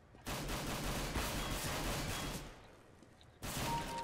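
Pistol fire in a CS:GO match: loud bursts of shots ringing on for about three seconds, a brief lull, then another volley starting right at the end.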